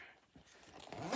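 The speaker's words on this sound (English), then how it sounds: "Zipper." A short zipper pull on a handmade bag, a quick rasping zip that rises to a louder finish near the end, close by with no talking.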